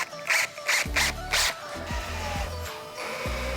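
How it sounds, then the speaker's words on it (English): A screw is driven into a mountain laurel handrail with a power driver, several short whirring bursts near and fairly faint, separated by quick clicks and pauses. "So we're going to start a couple of screws on the top."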